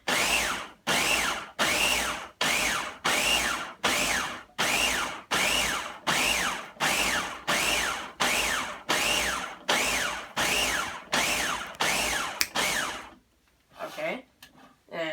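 A blender pulses dates in a rapid series of short, even bursts, about a dozen loud whirring pushes in a row, then a brief pause and a few softer rattling spins near the end.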